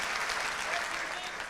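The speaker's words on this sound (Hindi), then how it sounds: "तालियां बजाओ, एक और सेशन" An audience at a Lahore literary festival session applauds, a dense, continuous clapping that stays loud and even throughout.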